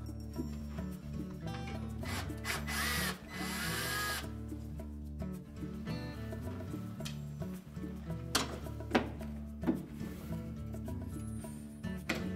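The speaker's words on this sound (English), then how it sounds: "So just remove two screws on the bottom, one on each side, to remove those trim pieces." A power drill drives out screws from the bottom trim pieces of a Whirlpool range during a door lock latch repair, with short whirring bursts and clicks at close range and no talking.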